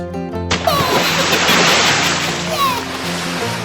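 Cartoon water splashing as a small magician plays in a garden pond where fish are being caught: a sudden burst of broad, rushing splash noise that stays loud and continuous over light music, with no talk.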